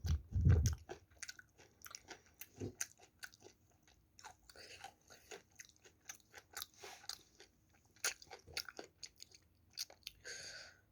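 Close, soft chewing of curry mixed with green onion kimchi, with wet mouth sounds, bites and occasional crunches in an irregular rhythm, alone without talk.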